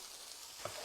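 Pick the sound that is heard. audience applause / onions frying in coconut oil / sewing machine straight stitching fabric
onions frying in coconut oil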